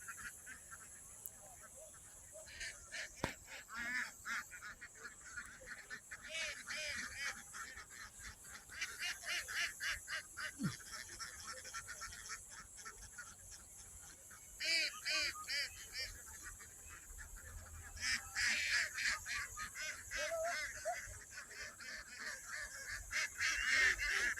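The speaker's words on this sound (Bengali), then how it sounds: "পাঁচশো হাঁস দেখেন এখানে আরও আছে হাঁস ওই যে নদীতে আছে" A large flock of farm ducks, about five hundred, on a river, giving dense overlapping rapid quacking that swells and fades in waves over a continuous hubbub, moderately distant.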